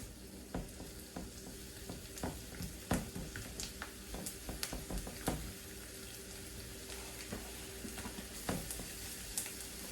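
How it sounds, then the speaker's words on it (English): Butter and onions frying on a stove, a soft, constant sizzle with scattered crackles and pops and occasional faint clinks of stirring, fairly quiet and with no one talking. "butter and onions on a stove"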